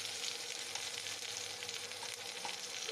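Spice paste fries over chopped onion in a pan, giving a steady, dense hiss that sits close, with faint stirring beneath it.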